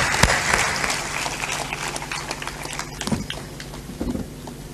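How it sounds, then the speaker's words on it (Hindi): A crowd at a religious satsang gathering applauds, a dense rattle of many hands clapping loudly and continuously that thins slightly toward the end, with no one speaking. "बहुत बहुत आशीर्वाद, ताली बजा दो सबके"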